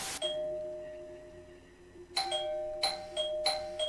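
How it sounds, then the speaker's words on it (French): A doorbell chime played from an audio cassette in the horror video game Bad Dream: Coma: a brief click, then a sustained bell tone, followed by several bright repeated ding-dong rings, clear and close, with no voices. "Il fait un bruit de sonnette."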